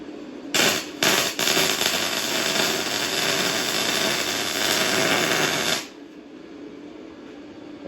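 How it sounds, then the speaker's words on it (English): Welding, a loud close crackling hiss with sharp bursts at the start, continuing steadily for about five seconds before cutting off into quiet. "we'll just try welding a little bit"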